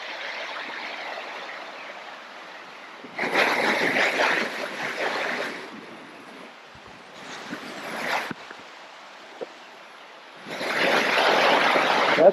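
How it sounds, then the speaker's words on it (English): Running water from a hot spring shower at a camp spot, gushing in loud, close bursts separated by quieter stretches of softer flow. "That's the shower."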